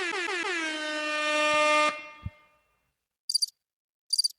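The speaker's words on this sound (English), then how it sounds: "Air horn." A loud, sustained air horn blast of about two seconds, with a bright buzzing tone that cuts off sharply, followed by two short bursts of cricket chirps in near silence.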